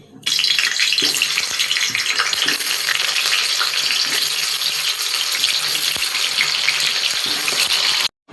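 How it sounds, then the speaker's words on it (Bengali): Food sizzles loudly and steadily in hot oil seasoned with salt and turmeric, a dense continuous frying hiss with faint clinks of stirring, then it cuts off abruptly near the end. "আমি এখানে একটু নুন আর হলুদ দিয়ে আমি এগুলোকে একটু ভাজবো।"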